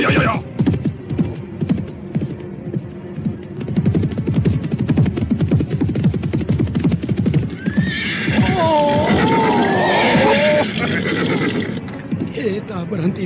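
Horses' hooves clip-clopping in a steady rapid rhythm, loud and close, followed by a drawn-out neigh and whinny over a low hum, with voices talking partly over it.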